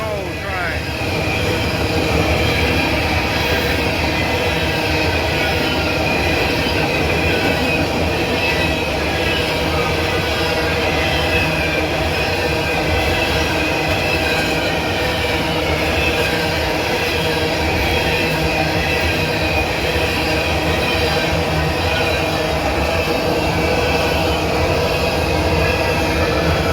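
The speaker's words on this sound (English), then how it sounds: "That's a southbound coal train." A southbound coal train rolls past in Abbeville, a loud, continuous rumble of wheels and wagons with metallic squeal, heard close and steady for the whole stretch without a horn.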